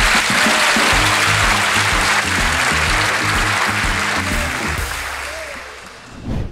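Loud, sustained audience applause fills a live comedy show taping, dense clapping mixed with a few scattered voices, then tapering off near the end.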